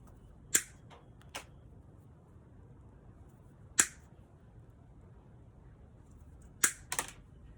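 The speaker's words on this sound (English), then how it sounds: "I'm going to take my cutters right here, and I'm just going to snip these 2 loops off" Wire cutters snipping two wire loops off a homemade surf fishing weight: a handful of sharp, isolated metallic snaps, close and quiet, spaced seconds apart with near silence between them.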